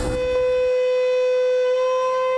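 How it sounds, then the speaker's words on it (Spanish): A civil defense warning siren sounds over riverside towns near Puerto Valdivia as a flood threat looms. It is a loud, steady, sustained tone that holds without a break, and no one speaks. "la sirena presagiaba lo peor para 4 poblaciones ribereñas"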